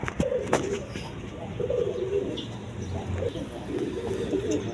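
A pair of Jacobin pigeons sitting on eggs in a clay pot give close, repeated low coos in rolling phrases, with a brief sharp knock near the start.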